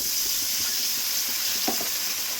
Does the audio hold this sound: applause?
no